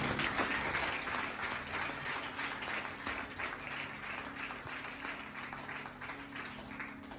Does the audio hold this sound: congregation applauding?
yes